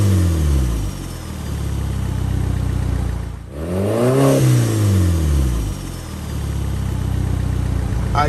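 A 2015 Audi RS5 with its muffler and resonator deleted revs hard from a steady drone, dips briefly, then climbs again. The engine note sweeps up and down loud and close, with no talk over it.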